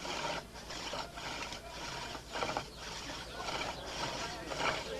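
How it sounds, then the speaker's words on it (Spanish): A carpenter drills into wood with a bow drill, giving a rhythmic back-and-forth rasping and grinding in repeated strokes of about half a second each, with someone talking over it. "El taladro de arco era tan solo una de las herramientas que el artesano debía dominar."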